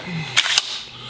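A Milwaukee M18 Fuel Gen 2 18-gauge cordless brad nailer fires twice in quick succession, two sharp, loud, close cracks about a fifth of a second apart.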